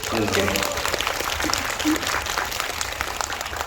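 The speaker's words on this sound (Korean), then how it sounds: "근데 그걸 너무나 훌륭하게 해줘서 박수 한번 주시겠어요?" An audience claps at a premiere screening of the series "Tyrant" at COEX in Seoul. The applause is soft and somewhat distant and keeps up throughout, with speech mixed in at the start.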